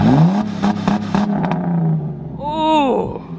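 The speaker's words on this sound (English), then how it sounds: "Give a little bit of throttle. Ooh, boy. This sounds great, more and more." A car with a rolling-coal exhaust revs hard against the rev limiter, giving a loud, close engine roar that holds a steady droning tone with stuttering bursts, while a voice reacts over it.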